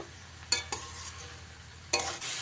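Pumpkin greens frying with mustard paste, stirred with a utensil in a pan: a few sharp scraping stir strokes over a low, quiet sizzle.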